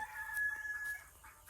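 A village hen that looks drowsy and unwell gives a few short, soft clucks, fairly quiet and up close, with no other sound competing.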